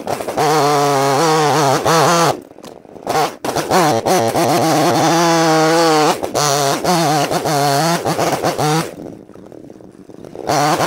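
A Proyama PCS26 chainsaw cutting up a softwood trunk runs loud and close, its engine rising and falling in pitch through repeated revs, with brief dips and near-silent gaps between cuts.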